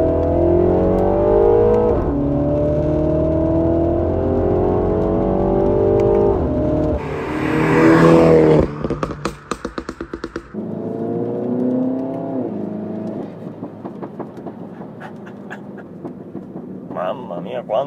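Mini engine revving hard with crackling exhaust pops, a sustained loud rising drone followed by a burst of sharp popping and crackles, with a voice talking over parts of it.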